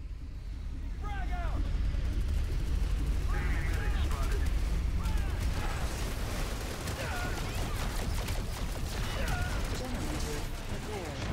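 Gunfire in PlanetSide 2 rattles through a busy battlefield mix, steady and fairly loud, while someone talks over it now and then.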